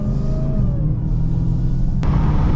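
A steady low engine rumble and exhaust drone from inside a Dodge Charger Daytona Hellcat driving on the street, with a brief click near the end.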